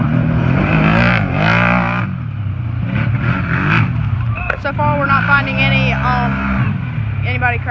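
Off-road UTVs race through a dirt corner at a pro quad event, engines revving and rising in pitch as they pass close by, with voices talking over the roar.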